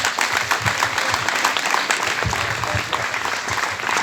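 Audience applause after a benefit performance, a dense steady clapping from a crowd that fills the whole stretch at a fairly loud level.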